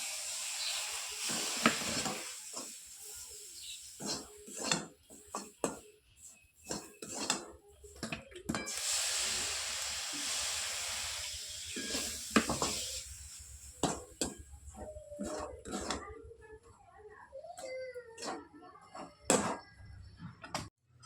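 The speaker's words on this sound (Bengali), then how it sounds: "একটু করে ওপর থেকে এরকম জল ছিটিয়ে দেবো আর নাড়বো একটু একটু জল ছিটাবো আর নাড়বো" Winter vegetables in a pan, sprinkled with water and stirred, giving irregular bursts of sizzling between sharp spoon-on-metal clinks and scrapes, close up with pauses between strokes.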